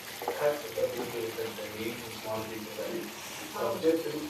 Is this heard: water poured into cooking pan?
yes